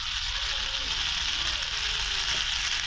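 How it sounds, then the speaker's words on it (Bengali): Shrimp from the Meghna river frying bhuna-style with onion in a pan, a steady close sizzle that runs unbroken throughout at moderate loudness, with no voices over it. "আমরা চিংড়ি মাছ রান্না করতেছি আমার ওয়াইফ রান্না করতে আছে পেঁয়াজ দিয়ে বোনা করতেছে"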